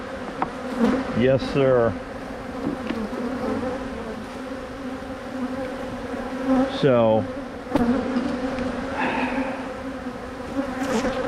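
Honey bees buzz steadily around an open hive that is heavy with frames of food stores. Now and then a bee zips close past the microphone and fades again, and someone says a brief word.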